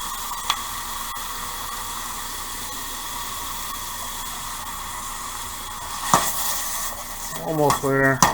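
Beef sizzles in a wok on an electric stove for bo luc lac, a steady close frying hiss, with metal utensils scraping and stirring in sharp bursts toward the end.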